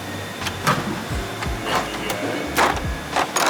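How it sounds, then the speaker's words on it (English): A reversible Snap-on ratcheting wrench turned by hand in a mechanic's shop, giving a few short sets of close mechanical clicks and whirs with brief pauses between strokes. "Snap-on ratcheting wrenches. Nice."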